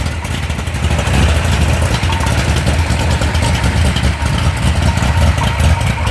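A 1973 Mopar 360 engine with RPM aluminum heads idles close and loud with a choppy, uneven lope, rumbling steadily throughout with no talking.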